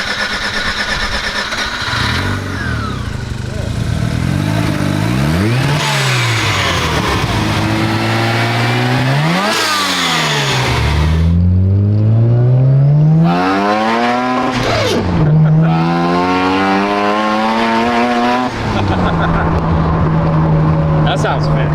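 A modified 600HP car engine revs hard up and down in repeated sweeping pulls, loud and close, holding a strong roar between blips.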